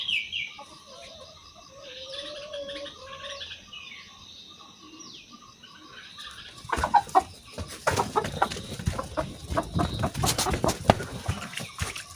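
Chickens cluck and call nearby, quieter at first, then louder with rustling and scuffling as the birds move about close by.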